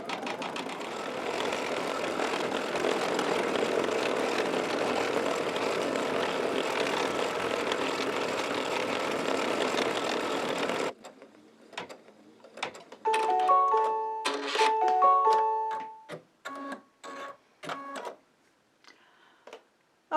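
An embroidery machine with a size 14 needle stitches a placement line for a batik piece on a chenille shamrock pillow, a dense, steady whir for about ten seconds. Scattered mechanical clicks and beeps follow once it stops.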